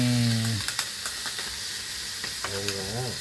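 Oil heating and frying in a hot pan gives a steady, close hiss with scattered small crackles and pops, and a voice is briefly heard at the start and end.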